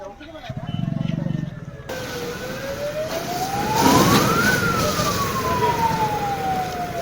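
A fire brigade truck's siren wails at a highway car fire, rising and falling in long sweeps over road noise and engine rumble, growing louder toward the middle.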